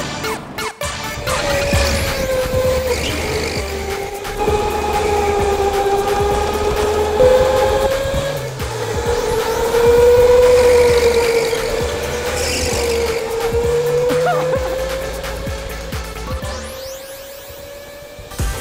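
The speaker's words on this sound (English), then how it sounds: "Just got out of school, about to go go-karting with my boys." Go-karts race around a track, engines droning and whining steadily up and down in pitch as they pass, loud and continuous with no talk.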